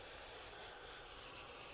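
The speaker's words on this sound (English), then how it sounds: "Spray down this inside cover." Cleaner sprayed onto the inside cover of the air filter on a Toro SR4 Super Recycler lawn mower, a steady close hiss lasting the whole stretch without pause.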